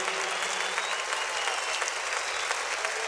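A large concert crowd at a show applauds in a dense, sustained wash of clapping with faint cheers, loud and continuous throughout.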